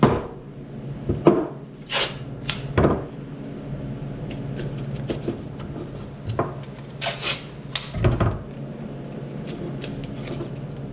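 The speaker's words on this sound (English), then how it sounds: "I'm just gonna tape all 3 of these. run one both ways, make sure it's nice and tight." Tape being stretched and wrapped tightly around three pine cones, with several crisp peeling and ripping bursts at irregular moments among softer rubbing and handling noises, close up and without talk.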